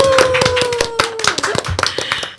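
An audience claps at an evening seminar on virtual-assistant careers, a dense burst of hand claps with a voice speaking over it near the start.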